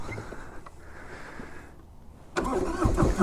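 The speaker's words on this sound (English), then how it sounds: "The old rumble of a Harley." A Harley-Davidson motorcycle engine rumbles at low idle, then roars louder as it picks up, deep and close.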